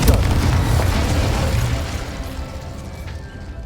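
Incendio and Confringo spell explosions in Hogwarts Legacy: a loud, close blast with a deep booming burst at the start that rumbles and fades away over a few seconds.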